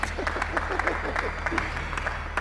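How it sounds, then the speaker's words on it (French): Steady applause from a church congregation, a dense patter of claps sustained throughout, with a few voices mixed in. "mais applaudissez quand même"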